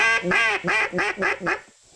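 A blown duck call gives the contented call: six rapid, nasal quacks in an even rhythm, loud and close, alone without talk.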